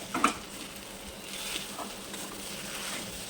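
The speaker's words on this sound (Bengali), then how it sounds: "চিকেনের সাথে আলুটাকে ভালো করে মিশিয়ে নিব" Boiled, mashed potato being mixed into cooked chicken in a pan, with a soft sizzle and a few scraping stirs, one sharper knock near the start, close and fairly quiet.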